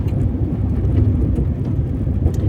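A car drives along with a steady, loud low engine and road rumble from inside the cabin, continuous and unbroken.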